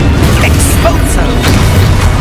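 Expulso blast spell in Hogwarts Legacy bursting as a loud, dense boom that fills the whole short moment, rumbling low with crackling debris over the top, no clear pause.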